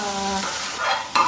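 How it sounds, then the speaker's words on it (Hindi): Hot tadka tempering is poured into masoor lentil dal and gives a loud, close hiss and sizzle that swells after a brief tonal hum and ends in a sharp crackle. "हमारा तड़का तैयार हो चुका है और अब हम लगा रहे हैं तड़का।"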